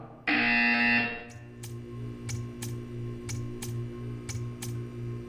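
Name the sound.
buzzer in the video game Portal 2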